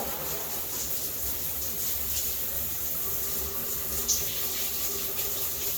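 Steady rushing water from a hot shower pours continuously, a close, even hiss with no breaks throughout.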